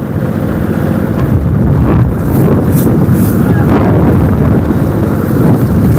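A steady roar of wind and rushing water as a boat speeds along during a boat race, with constant engine drone and no talking.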